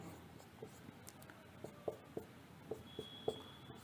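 Pen writing chemistry notes, a close, quiet series of short scratching strokes in an irregular rhythm, with nobody speaking over it.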